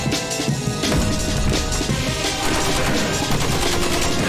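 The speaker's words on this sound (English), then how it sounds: "Okay, shooting Tricky in the head." Gunshots in the Friday Night Funkin Tricky mod, dense rapid fire and crashing impacts mixed into loud game music, sustained throughout.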